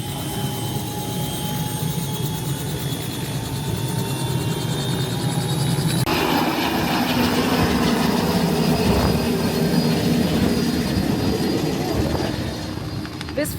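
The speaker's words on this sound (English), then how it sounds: "we're about to get a helicopter ride" A tour helicopter flying over Destin, Florida, with a loud, steady engine and rotor drone that fills the whole stretch and grows rougher and fuller about halfway through.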